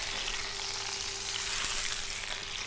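Meat sears in a hot pan with a steady, dense sizzle that holds at an even loudness throughout, close up and without talk.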